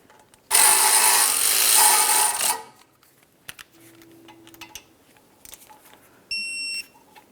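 A torque wrench tightens a 10mm bolt holding the front ABS sensor on a 2003-2007 Honda Accord: a loud ratcheting burst of about two seconds, then near quiet with small knocks, and a brief electronic beep near the end.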